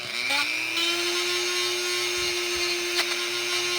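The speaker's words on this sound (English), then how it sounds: "put that piece inside your Dremel tool and tighten it down, get a little sandpaper and take some of the burrs off" A Dremel rotary tool spins up to a steady high whine while sanding burrs off a pin from a Buck 110 knife, the motor note holding constant with brief scraping contact bursts.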